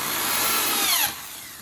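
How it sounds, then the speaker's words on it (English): A power tool drives a screw into wood while a work is being made ready for hanging, with a loud whirring whine that rises in pitch and then cuts off abruptly. "It's a power tool."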